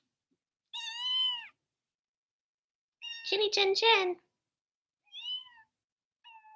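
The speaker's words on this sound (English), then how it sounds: "I hate when he does like those desperate meows" A kitten gives several desperate, drawn-out meows, separated by short pauses; one cry overlaps with a person speaking nearby, and the last meows are shorter and softer.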